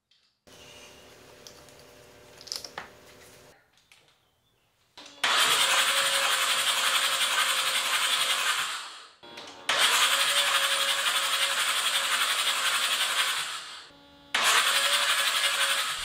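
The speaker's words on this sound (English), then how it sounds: "It cranked the motor over 3 times, definitely long enough for this motor to kick over and start." A car engine cranks over three times on a jump starter, each long burst of loud, rapid mechanical whirring separated by brief pauses, after some quieter ticking and clicks at the start.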